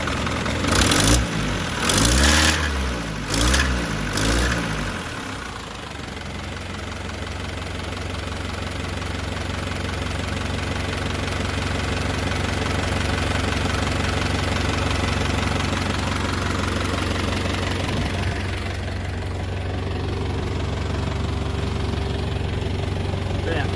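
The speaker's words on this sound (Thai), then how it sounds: "เครื่องน้่ีเลยนะครับเครื่องดีครับ" An Isuzu NPR 120 hp truck engine idles close by in a steady low diesel rumble with a light knock, and someone speaks over it for the first few seconds.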